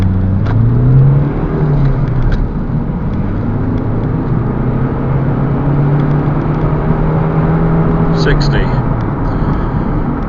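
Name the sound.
Lexus IS 2.2 diesel accelerating in 0 to 60 test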